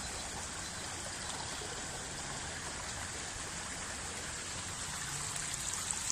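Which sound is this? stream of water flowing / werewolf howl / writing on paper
stream of water flowing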